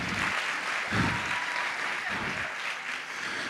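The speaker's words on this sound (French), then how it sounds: "Oui, oui, on peut vous applaudir" Audience applause for the delegations from Québec and Belgium at an opening ceremony, dense continuous clapping throughout at an even level.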